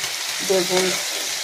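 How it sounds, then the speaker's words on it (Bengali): Eggplant sizzles in hot oil with onion and garlic, a short, close frying hiss with a faint tonal murmur over it. "বেগুনটাকে খুব ভালো করে ভেজে নিলাম পেঁয়াজ রসুনের সঙ্গে"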